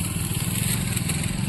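A motorcycle engine drones steadily at close range as it passes along an early-morning street in Banaras, a continuous mid-pitched hum with no voices.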